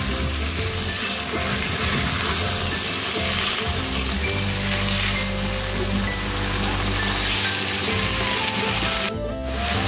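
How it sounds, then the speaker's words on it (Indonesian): Shrimp sizzle and fry steadily in a pan while being cooked for sambal pare, a continuous loud crackle with no pauses. "kemudian kita masak hingga udangnya berubah warna ya"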